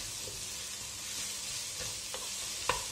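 Sliced onions stirred in a hot pan for a Malabar prawn chatti pathiri masala, a steady soft sizzle with a few scraping stirs toward the end, close and unaccompanied.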